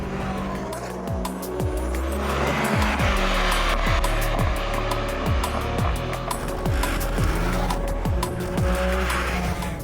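Supercars including a Bugatti Chiron, a Koenigsegg, a Ferrari Monza and an 812 Competizione on a parade lap, engines droning loudly and continuously with repeated rising and falling revs as gears change, close and dense.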